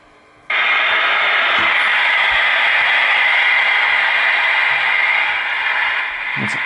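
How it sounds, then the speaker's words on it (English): Quiet near-silence suddenly gives way to a loud, continuous wash of atmospheric hiss as the antenna is reconnected to a homebrew 80/40m SSB/CW superhet receiver; the static stays steady to the end, dipping slightly near the close. "What's that atmospheric noise there?"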